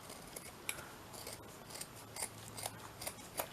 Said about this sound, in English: Let me find my big scissors. Let's have a big chop down here.